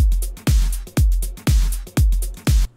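A loud, close drum groove programmed in Ableton Live with a punchy kick and snare hits in a lilting, swung rhythm, about five strong beats, no voices.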